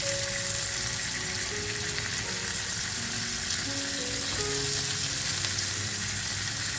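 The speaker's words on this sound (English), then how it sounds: "Shrimps take 2 minutes on each side." Shrimp grill and sizzle for a couple of minutes per side, a dense, steady hiss that holds even and close for several seconds, with faint tonal hums underneath and no speech.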